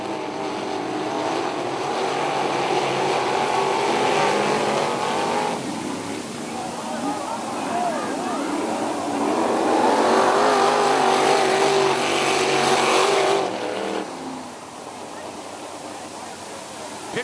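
Wingless sprint cars race through a heat on a dirt track at Wilmot, engines roaring and surging as the pack passes, loud and steady before fading, under a commentator's voice.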